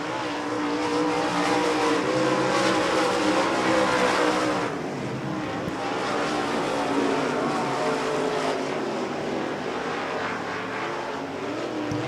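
Several race cars roaring around the dirt oval at Devil's Bowl Speedway, a loud continuous engine drone with swelling passes as the pack goes by, heard close and unbroken.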